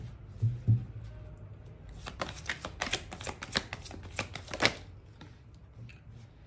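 Tarot cards being shuffled by hand, a quick run of soft crisp riffling and flicking close by, fairly quiet, with a couple of light taps at the start.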